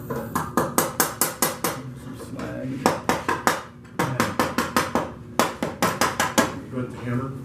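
A hammer strikes metal welds to knock off slag, a fast series of sharp ringing metallic blows in rapid bursts, close and loud, with a short pause midway.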